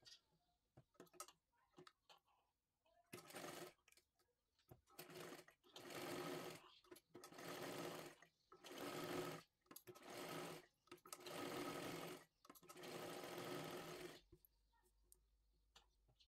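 Sewing machine running in repeated bursts while stitching the pieces of a three-piece princess-cut blouse and its lining, each run lasting about a second or so, separated by short pauses and faint handling sounds.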